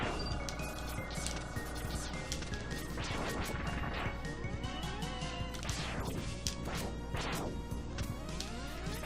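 Robots blowing up in a video game, a dense run of crashing smashes and sharp whacks layered with whooshes, loud and continuous, with no talk.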